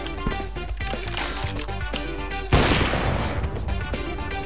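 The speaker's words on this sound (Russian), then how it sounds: "вот выстрел был" A loud gunshot in the video game CS:GO cracks suddenly midway, a sharp broadband blast with a noisy tail, following a stretch of busy in-game sound and music.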